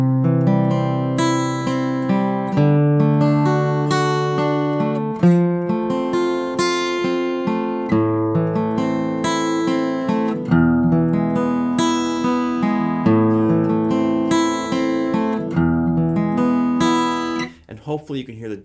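Guitar playing House of the Rising Sun in a steady arpeggiated pattern, with accents falling on the first and fourth beats of each bar, clear and close with no talking.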